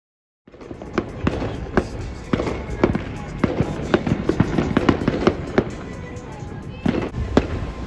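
Fourth of July fireworks over Los Angeles pop and crack in a fast irregular string of sharp bursts, some near and loud, others farther off, continuing through the whole stretch.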